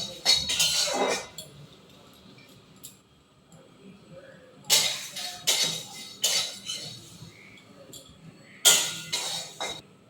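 Whole spices dry-roast in a pan for making a spice powder, heard as a few bursts of scraping, rattling stirs separated by quiet stretches, close and clear.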